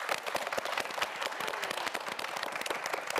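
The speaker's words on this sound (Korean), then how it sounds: "여러분 박수 보내주세요." An audience claps through the whole stretch in a dense patter of many quick, sharp claps that stays even and fairly loud, with no voices on top.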